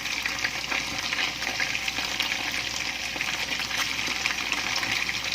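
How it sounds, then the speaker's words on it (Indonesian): Eggplant frying in hot oil, a steady, close crackling sizzle with spattering that holds even and unbroken throughout, no voices. "Muncrat digoreng, pret."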